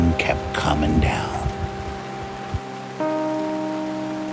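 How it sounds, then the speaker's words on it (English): Steady rain falls in a broad, even hiss that continues alone after a stretch of quiet talk near the start. "the rain kept coming down"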